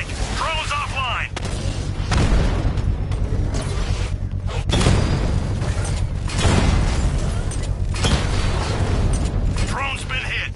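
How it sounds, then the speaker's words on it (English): Drone hit and blown up in Batman: Arkham Knight: heavy booms and rumbling explosion bursts recur in waves over a dense mechanical game din, with voices occasionally calling out. "Drone's been hit!"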